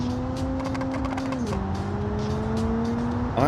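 A Mazda with a 1.8 litre engine making about 330 brake horsepower, driven in the BeamNG.Drive video game: a loud, steady engine drone that dips as it shifts midway, then holds and climbs again near the end.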